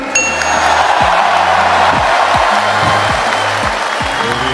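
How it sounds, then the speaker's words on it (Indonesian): A crowd at a political rally claps in a thick, continuous wash, mixed with tonal voices or chants rising and falling underneath. "Tepuk tangannya kurang semangat."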